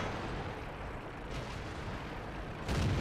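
Tank cannon fire in World of Tanks: a dense, rumbling battle bed with a heavy low boom hitting near the end, loud and close, with no speech.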